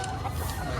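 A chicken for sale at a market clucks faintly and briefly beneath low background noise.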